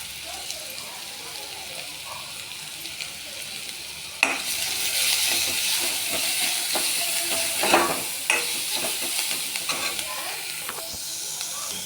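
Grated carrot sautéing in a pan starts as a faint sizzle, then swells into a louder, brighter hiss after a sharp clatter partway through, with intermittent stirring scrapes nearby.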